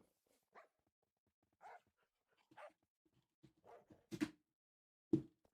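Dogs in the video game Minecraft give a sparse series of short, faint barks and yips, one after another, with no talk.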